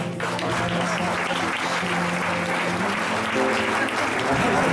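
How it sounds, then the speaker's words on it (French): Steady applause from a crowd at a wedding fair, dense and even clapping that carries on without a break for the whole stretch. "Je pense qu'on peut les applaudir."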